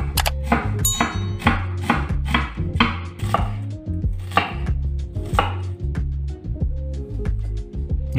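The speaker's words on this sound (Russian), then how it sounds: "Половинку луковицы еще вдоль пополам и затем нарезаю соломкой" Quick, steady knife chops against a cutting board, slicing onion into strips, close and crisp, repeating in a brisk rhythm over soft background music.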